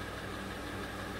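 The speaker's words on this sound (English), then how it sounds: "It's idling now" A 2006 Honda Ridgeline with multiple warning lights on idles after running about half an hour, a steady, low, even engine hum with no talk over it.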